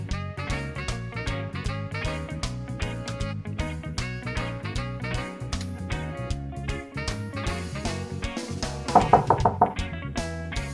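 Knocking at a door in a children's Valentine's Day story: a quick run of several knocks near the end, heard over steady, continuous background music.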